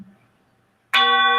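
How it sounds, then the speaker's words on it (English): A doorbell chimes after a near-silent pause, a single bright, loud electronic tone that rings out and holds steady. "We are ringing the bell."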